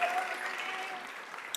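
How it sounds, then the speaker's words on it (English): Short, fading burst of applause at a city council meeting for a group of young men, with a faint voice at the start and a brief sharp sound near the end. "can we give these young men a round of applause one more time, please?"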